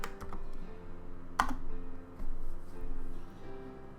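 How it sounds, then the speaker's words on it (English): A command is typed on a computer keyboard, a short run of light, irregular key clicks with a louder keystroke near the middle, close by and without any talk. "you're just going to type in SBT make bomb"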